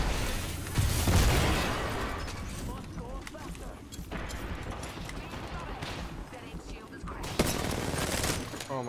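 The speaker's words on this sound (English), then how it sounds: "Oh my god, I'm shooting straight down." Rapid gunfire rattles through a video game in repeated bursts and single shots, loud and close, while a player talks excitedly over the shooting.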